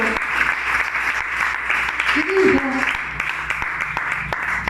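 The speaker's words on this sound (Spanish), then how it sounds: "Dale palmas a Dios esta noche." A church congregation clapping hands together in sustained, dense applause that fills the room, while a voice speaks over it.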